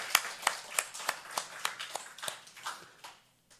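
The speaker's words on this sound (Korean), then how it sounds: "박수 한번 칩시다" Church congregation clapping at a Sunday morning service, a dozen or so sharp hand claps in a loose, slightly uneven rhythm, fairly close, fading out toward the end.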